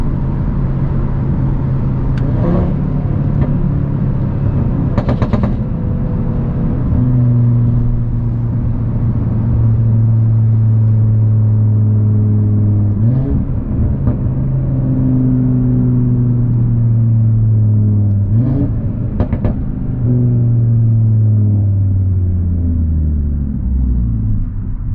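Audi RS3 engine pulling hard through several gears, each long rising drone broken by quick shifts and pops, loud and close from inside the car with no talk.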